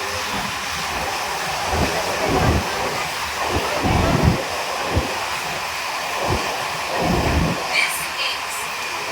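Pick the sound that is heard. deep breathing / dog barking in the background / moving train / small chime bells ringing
moving train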